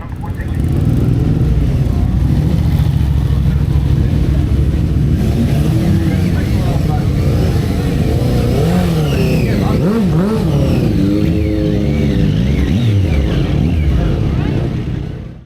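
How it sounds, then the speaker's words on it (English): Buggies racing past in the pits at Castle Combe circuit, their engines a loud, continuous roar with rising and falling revs as they pass close by. "currently they're holding a some sort of like weird buggy race right in front of us"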